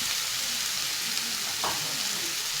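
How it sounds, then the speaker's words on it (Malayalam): Chopped, boiled conch meat sizzling in a hot frying pan for thoran: a bright, even, close hiss throughout, broken by one short spatula scrape. "നമ്മുടെ ശംഖ് അരിഞ്ഞു വച്ചിരിക്കുന്നത് തട്ടിക്കൊടുക്കാം"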